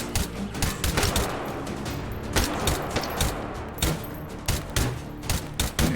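Rapid, irregular bursts of gunshots in the VR shooting game H3VR, loud and close, firing in quick clusters throughout with no talking.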